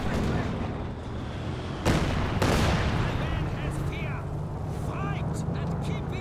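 Rocket fire and artillery in Company of Heroes 2, a World War II strategy game: a thick, continuous rumble of booming launches and explosions, with a sharp burst partway through, under a commentator's steady talk.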